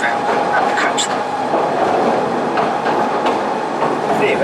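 Mail Rail, an underground train, runs along its track in a tunnel with a loud continuous rumble, rhythmic clicking from the wheels and occasional squeals, heard close up.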